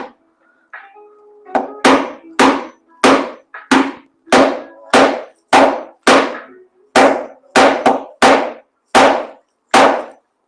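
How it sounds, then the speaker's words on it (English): A bolt is hammered to drive a metal threaded insert into a panel, giving about fifteen sharp ringing metallic strikes in a steady, close, loud rhythm after a few lighter taps. "I'm going to hammer this in with the bolt"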